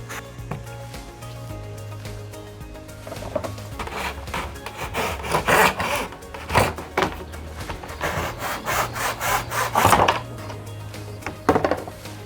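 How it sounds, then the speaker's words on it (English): A hand saw cuts 45-degree mitres in wooden frame pieces for a chalkboard, with a rough rasping stroke that builds to steady back-and-forth sawing, loudest in the middle and end, close to the microphone. "we're going to do a 45-degree mitre cut on either side"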